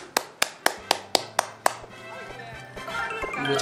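Seven crisp, evenly spaced claps from a Super Mario Maker video game ring out, then give way to busy electronic game sounds and a rising mix of tones.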